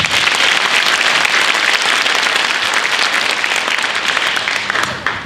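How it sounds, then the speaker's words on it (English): A concert crowd claps for a high school jazz ensemble at a winter band concert, sustained loud applause that tapers slightly at the end. "round of applause for our jazz ensemble"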